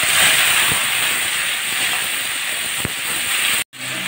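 Potatoes dropped into a hot pan with dried chillies and grated ginger, a loud burst of hissing steam that holds steady for several seconds with a couple of small clicks, then cuts off abruptly.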